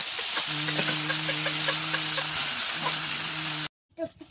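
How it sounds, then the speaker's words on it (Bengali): Shredded cabbage hisses loudly in hot oil with garlic in a wok over a wood-fired stove, a steady broadband sizzle with scraping stir strokes, then cutting off abruptly near the end as a brief clatter follows. "এই যে পাতাকপিটা দিয়ে দিলাম বাগারে। নেড়ে চেড়ে নামাই নেব।"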